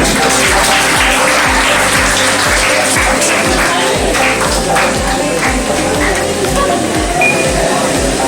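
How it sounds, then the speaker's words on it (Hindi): Sustained audience applause fills a student award function at a coaching academy's 2024 toppers' ceremony, loud and dense with steady clapping throughout and no talk over it. "जोरदार तालियां"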